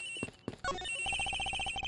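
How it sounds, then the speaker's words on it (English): A cell phone rings in the video game Ace Attorney Investigations, a repeating electronic ringtone with a rapid pulsing pattern that follows a few short game sound effects, fairly clear with no talking. "The ringing's coming from somewhere in here, sir."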